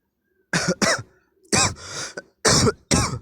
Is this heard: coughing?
yes